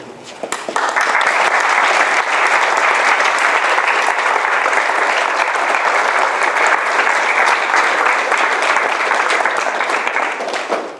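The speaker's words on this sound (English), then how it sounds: "So you can clap while I do this." Sustained audience applause after a talk, a dense, even wash of many hands clapping that swells in quickly, holds steady and loud for about ten seconds, then tapers slightly at the end.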